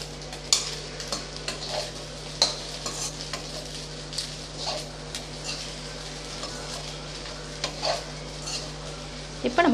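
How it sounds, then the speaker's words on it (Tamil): Egg rice with coriander leaves being stirred in a frying pan, with a soft steady sizzle under repeated scrapes and light clinks of a utensil against the pan, close and fairly quiet. "இதிலேயே கொஞ்சம் கட் பண்ணி வச்ச கொத்தமல்லி இலை எல்லாத்தையும் சேர்த்து நல்லா கலந்து"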